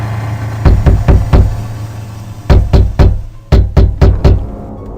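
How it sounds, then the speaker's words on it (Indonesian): Repeated knocking on a back door, heard as clusters of three to four sharp raps separated by pauses, loud and close over a low steady hum. "Suara ketukan yang berulang itu membuatnya merinding."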